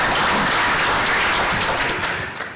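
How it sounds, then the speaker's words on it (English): Audience applause at an event held alongside the Congressional Black Caucus Annual Legislative Conference: a dense, steady wash of clapping from a crowd, loud and continuous, tapering slightly at the end. "Let's give Hazel a round of applause."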